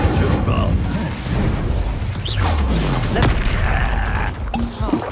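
Fire spell cast in the video game Hogwarts Legacy, a booming, crackling burst over continuous dense game effects and a low rumble, with further whooshes and clanks through the duel.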